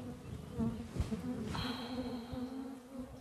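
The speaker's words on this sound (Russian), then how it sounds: "хочется включить запись пчелиного жужжания и засыпать так каждый вечер" Bees buzz steadily at close range in a sustained, droning hum with a faint higher whine over it, with no talking.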